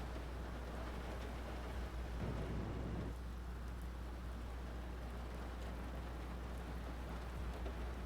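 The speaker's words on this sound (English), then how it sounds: "Oh, it's raining." Steady rain with a low rumble of thunder aboard a U-boat in a submarine video game, forming a continuous, fairly quiet wash of noise with a brief swell of rumble partway through.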